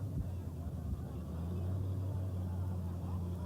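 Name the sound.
customized fire truck engine revving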